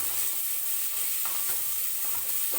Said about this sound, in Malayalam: അതുകൊണ്ട് ഇത് കുക്കറിൽ പിടിക്കാതെ ഇങ്ങനെ ഇളക്കി കൊടുക്കണം